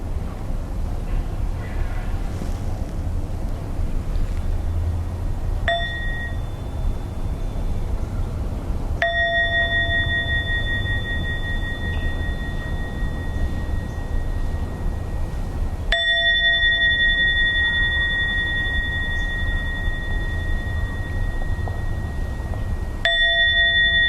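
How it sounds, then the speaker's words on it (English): A clear bell rings three times during a gentle yoga session, each strike leaving a long, shimmering tone that decays over several seconds against a quiet background hum. "You start by listening to 3 sounds of the bell"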